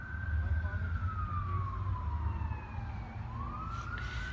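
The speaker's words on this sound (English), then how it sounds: "Like sirens, traffic noise." A single siren wails in a slow falling then rising sweep, moderately distant over low rumbling traffic.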